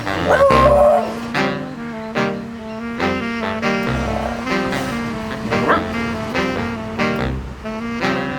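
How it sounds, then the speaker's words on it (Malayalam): A dog barks in repeated short bursts and whimpers between them, close and fairly loud, with people's voices mixed in around the barking. "പട്ടി കടിക്കോ?"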